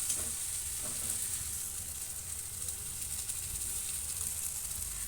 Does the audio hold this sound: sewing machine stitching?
no